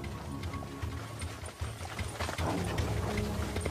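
Hooves of horses pulling a Roman carriage clop in a steady trotting rhythm, loud and close, with a constant low rumble of wheels beneath and no voices.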